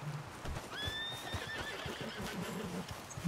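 Horse in Red Dead Redemption 2 giving a clear neigh and whinny over the steady clip-clop of hooves, close and fairly loud in the game's outdoor soundscape.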